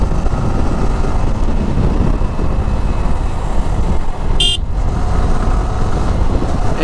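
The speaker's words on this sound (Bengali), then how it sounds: "সামনে প্রচুর গাড়ি, যার কারণে আমি আসলে ঠিক মতো টানতে পারতেছি না।" Heavy road traffic heard from a moving Yamaha R15 v4 motorcycle: a loud, constant rumble of engines and wind, with one short vehicle horn toot partway through.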